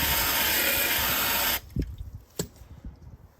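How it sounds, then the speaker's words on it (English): Water sprays from a hose into a toilet drain, a loud steady hissing rush that cuts off abruptly, followed by a few faint drips and trickles. "If I spray water in there"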